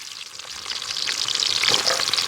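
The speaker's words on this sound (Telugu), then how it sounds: "మసాలాలు వేయించుకోవడానికి బాండ్లు అయితే పెట్టేసుకుందాం నూనె పోసుకున్నాం" Onions fry in hot oil in a pan for a masala base for country chicken curry, a steady, close sizzle and crackle that grows a little louder, with no talking.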